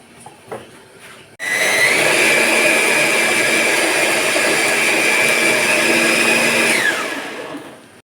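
A blender whirs through sugar and eggs for kue nona manis, cutting in suddenly with a loud steady motor hum that holds for several seconds before winding down, with no talk.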